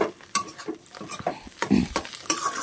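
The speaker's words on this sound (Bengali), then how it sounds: "হয়ে যাওয়ার সময় একটু নাড়াটা বেশি মানে নাড়তে হবে অতিরিক্ত" Mixed vegetables stirred in a pan: quick spoon scrapes and clatters over a light frying sizzle, close and fairly loud, with no voices.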